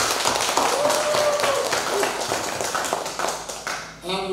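Audience applause at a Bible school session, a steady wash of many hands clapping that carries for several seconds before thinning out near the end, with some voices mixed in.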